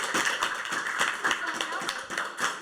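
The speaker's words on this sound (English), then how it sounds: "Give her a big round of applause." Audience applause welcoming a guest to the table at a community talk show event in Aberfeldy, a short burst of close, dense hand clapping from a small gathering, fairly loud throughout.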